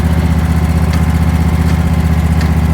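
A lawn mower engine runs steadily after a cold start, a loud, close, continuous idle with an even chugging pulse and no other sounds.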